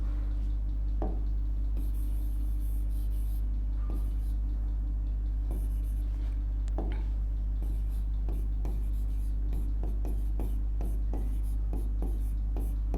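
A pen or marker writes on a board with soft scratches and taps in irregular bursts, quiet and close, over a steady low electrical hum.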